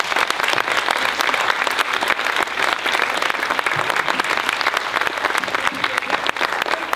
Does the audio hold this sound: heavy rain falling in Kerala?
no